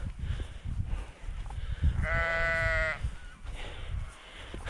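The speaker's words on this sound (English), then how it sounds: "I'm having a standoff with some sheep." Sheep bleating in a field on a Cornish coastal walk: one loud, sustained bleat close by, standing out over steady wind noise and footsteps.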